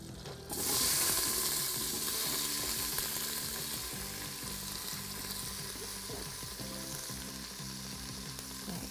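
Chopped onion and three stalks of celery drop into hot oil and butter in an Instant Pot and start to sizzle at once. The frying hisses loudly and steadily, with faint stirring scrapes underneath.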